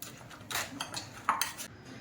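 A spoon scrapes and clinks against a bowl while stirring a custard apple dessert, several quick metallic taps and scrapes, close and fairly quiet.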